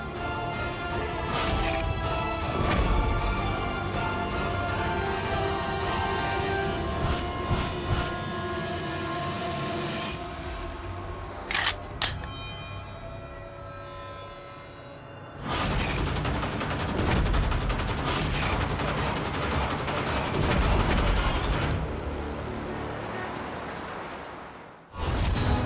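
Gunfire in a dubbed dramatic TV scene: dense, continuous bursts and crackling volleys fill most of the stretch, with a brief quieter gap in the middle, and then the noise resumes loud until it ends abruptly.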